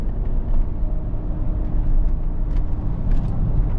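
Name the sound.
Mercedes SL 65 AMG V12 roadster driving on winding roads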